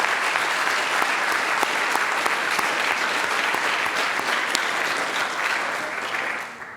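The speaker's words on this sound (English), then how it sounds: "let's give them a big applause for making the trip here." An audience at an evening talk on the F-16 gives a sustained round of applause for visiting Rockwell Collins speakers, a dense even wash of many hands clapping that fades slightly at the end.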